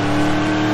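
A car engine in a Roblox driving game hums steadily with a rising, revving tone over less than a second, loud and without talk.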